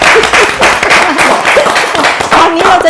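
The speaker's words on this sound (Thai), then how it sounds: "ปรบมือ" A studio audience on a Thai home and cooking show breaks into loud, close clapping, dense and continuous, with voices and cheerful calls rising over it.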